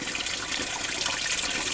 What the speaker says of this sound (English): here with this little drain, the water is just carving out little falls all of its own